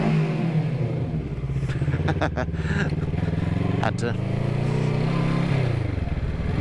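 A 2013 Kawasaki Ninja 650 motorcycle idles and revs, a steady loud engine drone with a few sharp throttle blips, while someone speaks briefly over it.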